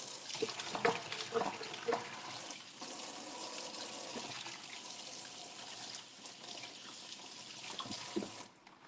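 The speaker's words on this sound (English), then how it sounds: "I'm going to wash my hands" Hands are washed under a running kitchen tap while making meatballs: a close, steady rush of water with some splashing and rubbing that carries on for about eight seconds before it stops.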